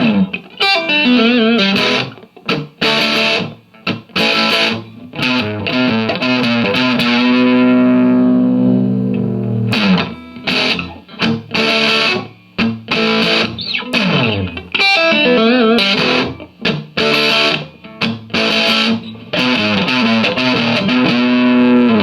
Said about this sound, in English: I just wanted to play a few little rock chords for you on this thing.